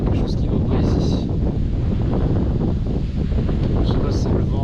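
Gusty seaside wind at Canet-en-Roussillon buffets the microphone with a loud, continuous roar and brief hissy surges.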